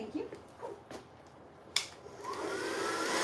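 A hair dryer whooshes on and builds into a steady loud roar while blowing out relaxed hair, with a few soft handling bumps and clicks just before it starts.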